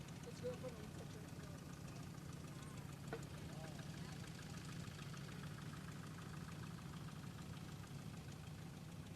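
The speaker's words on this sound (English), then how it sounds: "Cody Jeancourt with a WD9. It's a family tractor." A WD9 tractor engine idles steadily at a tractor show, a low continuous rumble with faint knocking throughout, while voices and crowd noise mingle in the background.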